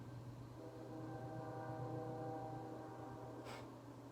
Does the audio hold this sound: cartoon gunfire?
no